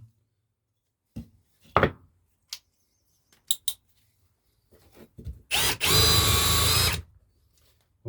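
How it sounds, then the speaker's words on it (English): A Parkside Performance cordless impact drill bores into a piece of timber after a few scattered clicks and knocks, ending in one loud, close burst of whirring motor lasting about a second and a half. "we're drilling into a bit of timber"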